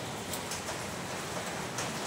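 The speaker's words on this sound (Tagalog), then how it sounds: "Patuloy ang buhos ng ulan natin guys" Heavy rain pours steadily in a dense, continuous hiss, loud and close, with no voices.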